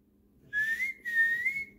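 A pet bird whistles two clear, sustained tonal phrases close by, each rising and holding a bright steady pitch with a short gap between them, in a quiet room.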